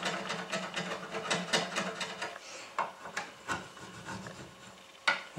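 A handheld corner rounding tool is worked along red oak edges to chamfer them, producing repeated rasping, scraping strokes at close range, irregular in rhythm with brief pauses and a sharper scrape near the end.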